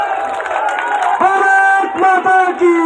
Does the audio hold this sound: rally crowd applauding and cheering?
yes